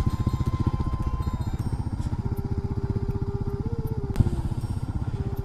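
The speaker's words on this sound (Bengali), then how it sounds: "এখানে একটা বাইকের গ্রুপ এসছে" Motorcycle engines on a straight highway after rain, on a ride toward Lodhasuli forest: a loud, steady throbbing rumble with shifting pitch and a sharp clunk near the end, heard alone.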